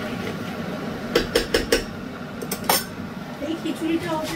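A spoon stirs vegetables into khichuri with cumin powder in a metal cooking pot. A run of quick metallic clinks and scrapes sits over a low steady background, followed by a couple more knocks.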